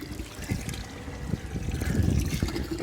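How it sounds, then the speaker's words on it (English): A small electric water pump runs off a portable solar generator on AC power, drawing about 100 watts, giving a steady watery churn and gurgle with uneven low splashing pulses that swell slightly louder toward the end. "It's pumping water."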